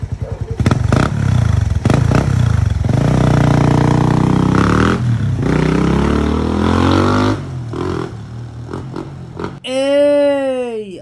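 Motorcycle with a silencer fitted in the exhaust tip revving up and down close by, a throaty rising and falling engine note that drops to idle, ending with a brief squealing sound.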